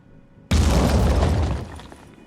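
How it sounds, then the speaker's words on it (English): A grenade tossed in the Phoenix Point video game explodes with a sudden loud boom after a quiet moment, its rumbling blast sustaining for about a second before fading into a lingering tail. "Yep, grenade toss it is."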